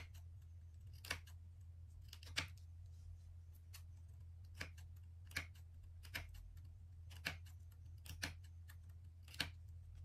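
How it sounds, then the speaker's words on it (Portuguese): Scissors snip fabric close to a seam in a series of faint, sharp cuts spaced about a second apart, heard alone over a low background hum. "sempre cortar bem rente a costura"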